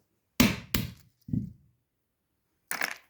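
Hazelnut shells struck and cracked open one after another: three sharp, close cracks in quick succession, a pause, then a fourth crack, with no talking.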